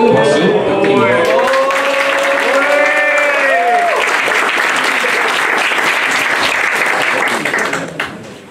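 An audience claps loudly and continuously at a high school reading concert, dense sustained applause with some cheering voices early on, fading out at the end.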